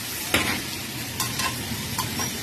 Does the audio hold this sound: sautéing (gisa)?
yes